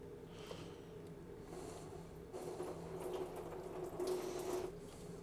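Plain water pours and splashes to rinse spilled coolant in the engine bay of a V12 BMW E31 850 under restoration. The trickle is faint and steady, grows somewhat fuller partway through, and no voices are heard.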